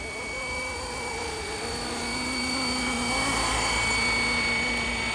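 A Flywing RC helicopter hovers in ATTI mode, its rotor and motor giving a steady high whine with a constant tonal hum, close and sustained, slowly swelling slightly in loudness.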